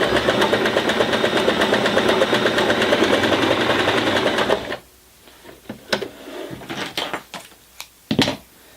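Janome 2212 sewing machine running a zigzag stitch, a steady rapid mechanical whir for about four seconds, then stopping, followed by scattered clicks and handling knocks.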